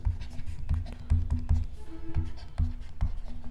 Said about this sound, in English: let me write down the question